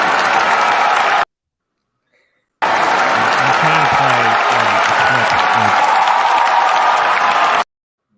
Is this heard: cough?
no